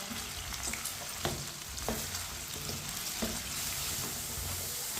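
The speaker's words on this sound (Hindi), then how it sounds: "आलू को भी इसी तरह चम्मच लाते हुए फ्राई करना है" Potatoes fry in a pan for aloo bhindi with a continuous close sizzle, while a spoon stirs them in light, irregular scrapes and taps over the hiss.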